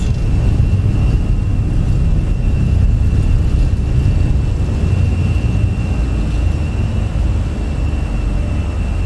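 A Fenix A320 airliner in a flight simulator roars through its takeoff roll and rotation, a loud, steady broadband engine and rolling rumble that holds unbroken from start to end with no talk.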